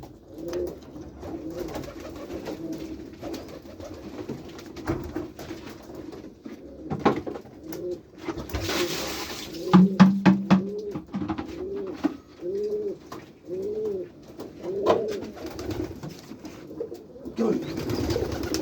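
Pigeons coo repeatedly inside a white pigeon loft, with soft rolling calls overlapping in irregular bursts at close range and faint background noise between them.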